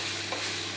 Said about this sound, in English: So now I'm stir frying my veggie and my meat around 2 to 3 minutes now.